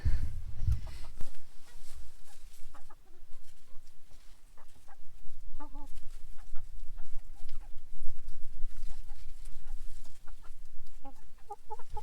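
Several chickens cluck and murmur in short, scattered bursts over a steady outdoor background, moderately close, with no talking.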